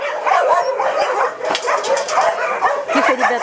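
Several dogs in a kennel barking, yipping and whimpering close by, a loud, overlapping jumble of excited calls with brief high whines in between.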